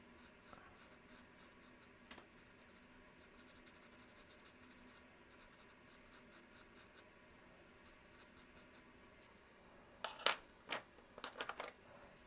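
CarbOthello pastel pencil on paper, a quiet soft scratching stroke that runs faintly through the background, followed near the end by a few brisker, louder scratchy strokes close by.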